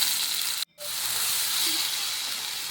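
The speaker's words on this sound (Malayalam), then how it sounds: "അതിലേക്ക് നമ്മൾ റെഡിയാക്കി വെച്ചിരിക്കുന്ന പേസ്റ്റ് ഇട്ട് കൊടുക്കുക. എന്നിട്ട് ഒന്ന് നന്നായി വഴറ്റി കൊടുക്കുക." Green chicken masala paste sautés in coconut oil in a pan, a loud, continuous hissing sizzle with one brief sharp dropout early on before the frying resumes steadily.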